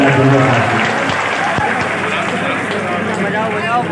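A mushaira audience in Deoband applauds loudly as a poet arrives, with dense, sustained clapping and crowd noise filling the whole stretch.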